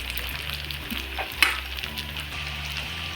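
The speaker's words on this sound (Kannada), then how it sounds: "ಬಜ್ಜಿ ಬೋಂಡ ಎಲ್ಲ ಫ್ರೈ ಮಾಡ್ಕೊಳ್ಳೋ ಥರ ಫ್ರೈ ಮಾಡ್ಕೊಳ್ಳಿ." Paneer pieces deep-fry in oil with a steady, even bubbling sizzle that stays close and continuous. A single sharp clink of a utensil lands about halfway through.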